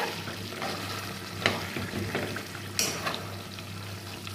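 Beef with a ground spice mix sizzles in a pan as it is stirred, a continuous close frying hiss broken by a few scraping strokes and clacks of the spoon.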